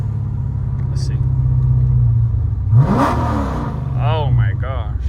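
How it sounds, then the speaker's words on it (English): A tuned, cammed 426 Hemi Dodge Challenger revving lightly in neutral, a steady low rumble with a quick blip of throttle midway, close and loud, while people talk over it. "throw some revs down for you guys, but I mean, I'm barely touching the throttle"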